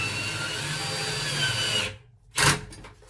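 A power drill drives a screw into wood during a closet overhaul, whirring steadily at close range, then cutting off into a brief pause before a short final burst.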